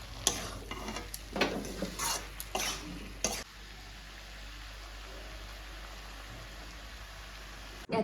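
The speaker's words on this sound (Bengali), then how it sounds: "আমি এই চচ্চড়িটা রান্না করছি।" Fish chorchori with onion and chilli cooks in a pan, with a faint sizzle and several scraping stirs over the first three seconds, then a quieter steady simmer.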